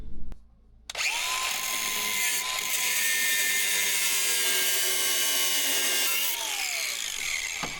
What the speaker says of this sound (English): We're going to take cutoff wheel, make 2 cuts 180 degrees apart on that race.